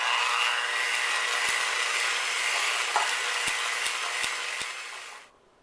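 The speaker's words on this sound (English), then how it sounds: "Now I'm just going to mix it together with my electric mixer." Electric hand mixer whirring steadily through a cream cheese filling made with sour cream, vanilla and lemon juice, a loud continuous buzz with a few light clicks that cuts off near the end.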